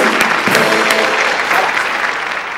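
Comedy show audience breaks into steady, dense clapping, loud and close, holding for a couple of seconds before easing slightly.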